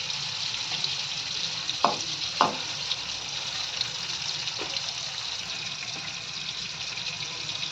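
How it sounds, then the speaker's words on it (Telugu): Pressure-cooked jackfruit pieces fry in a pan for jackfruit biryani, a constant soft sizzle with a couple of sharp utensil taps and scrapes, close by and without speech. "కుక్కర్లోంచి రెండు విజిల్స్ తీసిన ముక్కల్ని మనం ఇలా వేయించుకోవాలి"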